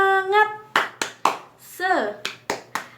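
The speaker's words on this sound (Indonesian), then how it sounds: "1, 2, 3. Tepuk semangat." Schoolchildren in an Indonesian classroom clap in a rhythmic spirit cheer, sharp hand claps in a syncopated pattern, mixed with a voice and children's chanting.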